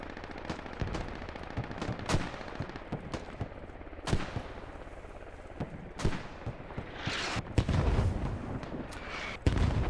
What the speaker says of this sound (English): Those mortars, those smoke.